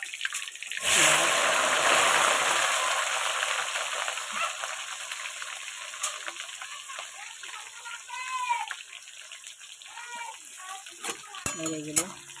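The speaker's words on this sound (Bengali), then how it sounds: "এই যে তেল দিয়ে দিলাম, তেল দেওয়ার পর তেজপাতা দিলাম, তেজপাতা একটু জিরে ফোড়ন দেবো।" Bay leaf and cumin seeds are dropped into hot oil as a mutton dish begins, setting off a loud burst of sizzling that then settles into a softer, steady frying crackle, with someone speaking intermittently over it.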